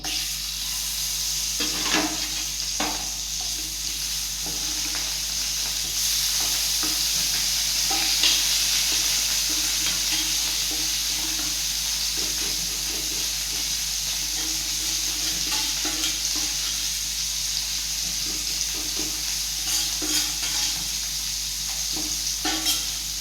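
Steady crackling sizzle of fish frying in a pan, continuous and fairly close, with occasional soft clinks and stirring noises and no talking.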